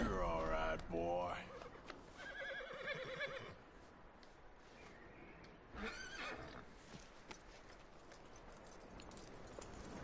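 A horse in the video game Red Dead Redemption 2 neighs and whinnies several times, with hooves clip-clopping and other noises layered underneath.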